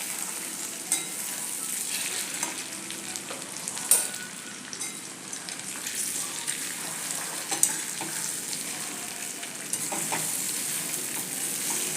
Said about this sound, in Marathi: आपण ज्या वड्या कट करून घेतल्यात त्या ह्याच्यात घालूया आणि हलक्या हाताने याला परतून घ्यायचं